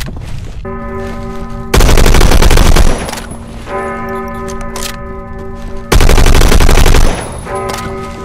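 FAL Para rifle gunfire in the shooter game Phantom Forces comes as two loud, sustained bursts of rapid shots, each about a second long, separated by steady tonal game sounds.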